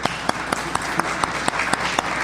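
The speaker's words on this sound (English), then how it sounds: "So I would like to give them a round of applause for" At a Virginia Manufacturers Association announcement, an audience applauds, with one nearby pair of hands clapping in a sharp, regular beat over softer background clapping.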